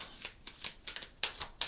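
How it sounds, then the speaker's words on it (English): Tarot cards are shuffled close by, giving a quick series of crisp, papery riffles and flicks in irregular bursts, soft overall with a few sharper snaps. "Quit shuffling already."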